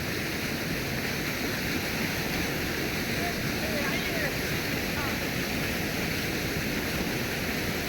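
Usri waterfall in Giridih, Jharkhand, pours down as a loud, constant broadband roar that stays unbroken throughout, with people bathing in the falls and faint voices buried in the rush.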